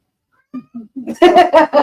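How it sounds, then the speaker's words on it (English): A 24-year-old cat meows just after eating dinner, with a few soft short calls followed by louder, drawn-out meows close to the microphone, heard alone in a quiet room. "She's down there, but she's my 24-year-old cat. She just finished eating dinner."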